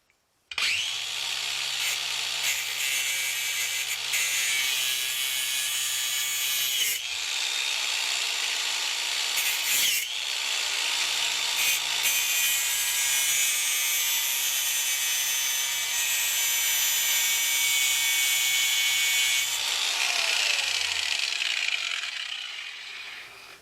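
A power cutting tool slices through a metal vacuum line fitting on a vehicle, throwing sparks; a loud, steady grinding whine runs almost continuously for about twenty seconds, with a couple of brief dips before it trails off.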